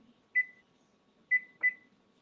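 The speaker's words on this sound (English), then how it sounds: "I better set a timer so I don't get distracted." A kitchen timer being set gives three short electronic beeps, one alone then two close together, clear and moderately loud in a quiet kitchen.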